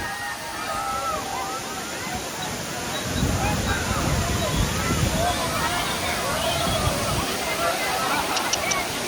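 Rushing water roars continuously at Kempty Falls in Mussoorie, a steady broad wash with faint voices underneath.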